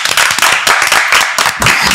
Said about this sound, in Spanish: Tengo el inmensísimo placer de presentar y quiero que recibamos con un fortísimo aplauso a Jorge Junior.